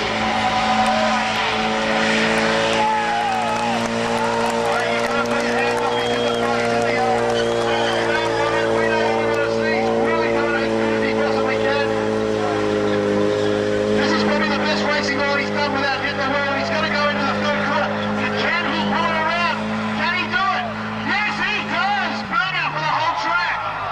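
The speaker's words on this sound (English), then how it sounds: "he did almost a full track burnout" A drift car at a Drift Nats round holds a long, loud, near full-track burnout, its engine a steady droning roar with tyre noise throughout and a voice talking over it.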